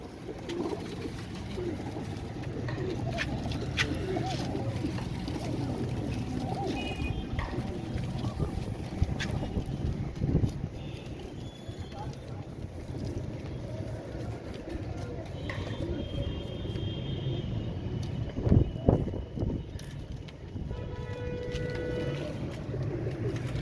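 Royal Teddy pigeon chicks, thirteen ringed young birds, coo softly in a low steady murmur close by, with scattered bird calls and faint background voices mixed in.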